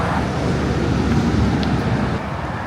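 Wind blowing steadily outdoors, a continuous broadband rush with gusty buffeting against the microphone, loud and even throughout, with no voices.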